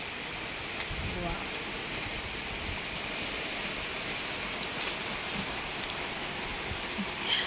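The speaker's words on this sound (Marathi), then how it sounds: "जोरदार असं पाऊस आलेला आहे" Continuous broadband hiss of rain falls steadily throughout, fairly even in loudness with a few faint thumps.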